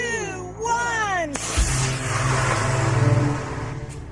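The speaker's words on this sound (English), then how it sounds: "The engine blast gets the rocket moving off its launch pad." A rocket engine blasts at liftoff from its launch pad: after a brief voice at the start, a sudden, loud, roaring broadband rush erupts and holds steady with a deep rumble underneath.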